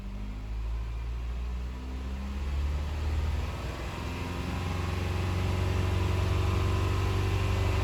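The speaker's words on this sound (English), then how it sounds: "I'm going to go ahead and raise the RPM," Saturn Vue engine with a misfire on cylinders 2 and 3, held at raised RPM: a steady, droning engine hum with low rumble, building slightly louder toward the end, with no talking.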